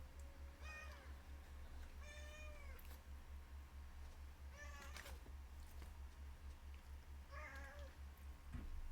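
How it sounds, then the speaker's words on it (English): Excited house cat meowing insistently at the smell of food: four separate drawn-out meows spaced a couple of seconds apart, moderately loud over a steady low electrical hum. "Yeah, my cat is going crazy. It smells the food"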